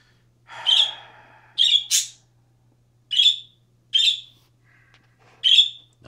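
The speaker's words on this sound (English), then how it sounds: "Well, you guys can listen to the bird in the background." A pet bird indoors in a room with a 55-gallon planted aquarium gives six loud, sharp squawks and chirps at irregular intervals, close by, with near silence and a faint hum between calls.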